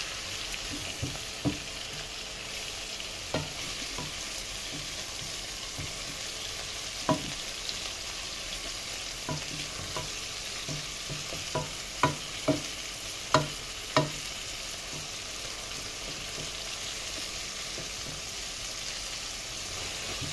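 Whole spices stirred and sizzling in hot oil in a pan for kabsa, with chicken-broth seasoning, coriander, cumin and turmeric: a steady frying hiss with scattered scraping taps of the spoon, close and continuous, no talk.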